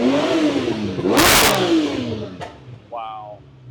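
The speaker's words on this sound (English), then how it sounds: "every time that V12 revs, it just goes right up your spine" A V12 car engine with a new exhaust revs up sharply in a loud burst, then settles back to a rumbling idle; people talk over it before and after.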